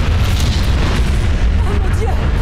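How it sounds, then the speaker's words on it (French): Boat explosion in the 2011 film Shark 3D, a loud sustained booming blast with a deep rumble that fills the whole moment. "Et ça va mener à une énorme, gigantesque, méga turbo explosion."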